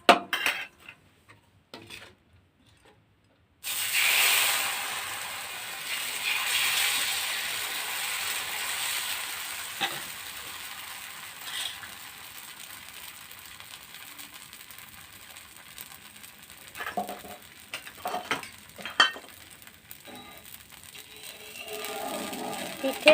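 Chilka pitha cooks with oil on a hot tawa griddle, a steady hiss rising after a quiet start, with scattered metallic clinks and scrapes of utensils against the pan.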